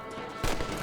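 A single rifle shot in the Red Dead Redemption Wild West game fires suddenly as a sharp broadband crack with a short tail. It is loud and close, following quieter ambient game sound, with no speech.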